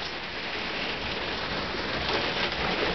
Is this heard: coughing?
no